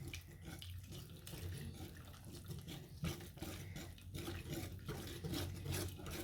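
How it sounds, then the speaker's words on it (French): Eggless, milk-free crêpe batter made with water being mixed in a bowl, a continuous low wet swishing and churning, fairly faint and steady, no talk. "L'eau, en fait, c'est comme le lait. On mélange pas mal, beaucoup."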